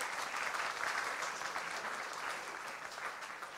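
Audience at a soul gospel concert gives a singer another round of applause, a sustained even roar of many hands clapping, moderately loud and continuous with no speech over it.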